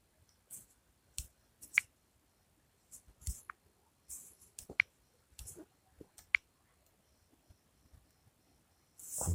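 A computer mouse is clicked in sparse, irregular single taps and short pairs, sharp and close against a near-silent background.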